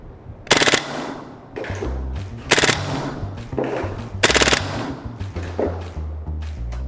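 A Maruyama SCW9 Pro gas blowback airsoft submachine gun fires several loud, sharp bursts of rapid shots separated by brief pauses, close by with no talking.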